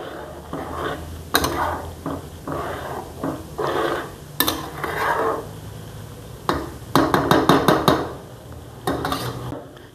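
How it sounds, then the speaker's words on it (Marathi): Spring onion greens cooking in a pan over a medium gas flame are stirred with a utensil, giving irregular scraping and clanking strokes, some sharp and loud, over a low steady background. "व्यवस्थित हलवून घ्यायचं असं."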